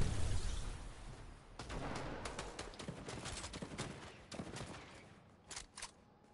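Fortnite gunfire crackles in rapid, quiet bursts of shots that come and go with brief gaps, faint and slightly distant.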